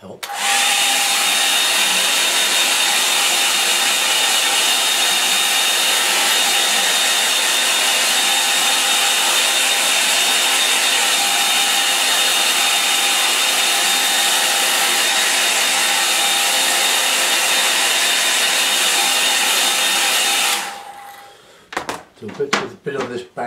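A hair dryer blows steadily for about twenty seconds, drying a watercolour painting, then cuts off abruptly, followed by brief handling clatter.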